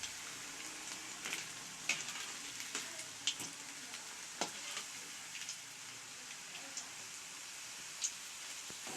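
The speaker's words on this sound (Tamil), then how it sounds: "அதேமாரி வடை போடுறப்ப கொஞ்சம் மீடியம் ஃப்ளேமில் வச்சு போடுங்க." Maida vada fry in hot oil over a medium flame, making a soft, continuous sizzle with scattered small pops and crackles, faint and steady with no voices.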